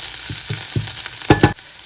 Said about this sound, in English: Now I will add the garlic. Give it a nice mix.